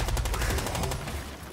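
Rapid automatic gunfire in the tactical shooter Rainbow Six Extraction, a fast rhythmic burst of loud close shots for about a second that fades into a dull rumbling tail.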